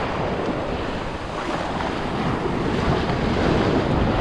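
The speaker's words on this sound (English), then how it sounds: "What I'm doing is just letting the waves kind of wash over everything" Ocean surf rolls continuously onto the beach at Manasota Key, Florida, a loud close rush of breaking water mixed with gusty wind buffeting the microphone.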